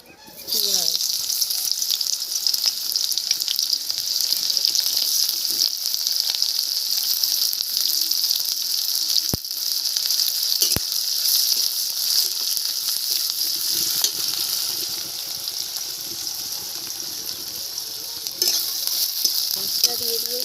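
Sliced onions fry in hot oil for a crab fry, a continuous close sizzle and hiss with a few sharp clicks from stirring, running steadily for about twenty seconds with faint voices beneath it.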